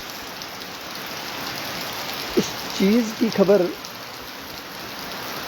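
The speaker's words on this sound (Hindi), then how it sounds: "बारिश काफ़ी तेज़ हो रही है।" Heavy rain hisses steadily across Gool subdivision while someone speaks briefly over it, the downpour continuing evenly before and after his words.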